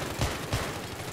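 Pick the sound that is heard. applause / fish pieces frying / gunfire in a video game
gunfire in a video game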